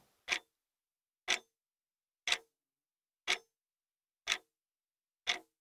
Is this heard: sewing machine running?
no